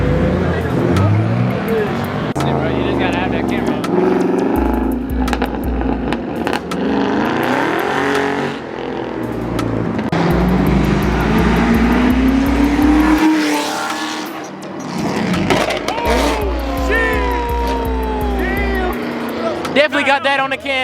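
An Audi engine revs hard at a car meet amid crowd noise, rising and falling loudly in bursts over a low rumble while people talk and shout nearby.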